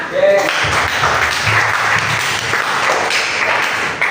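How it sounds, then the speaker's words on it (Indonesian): A classroom of students applauds at the end of a lesson, a steady mix of clapping and lively chatter lasting a few seconds with a teacher's voice mixed in. "Tepuk tangan untuk kita semua."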